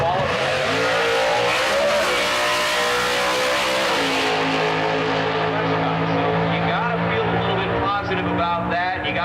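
A HEMI-powered drag racing car roars loudly down the strip, its engine screaming hard before the pitch settles into a sustained, receding drone.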